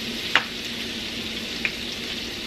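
Garlic sizzles in melted butter in a pan for seasoned pork chops, a continuous soft frying hiss with two small clicks of a utensil stirring.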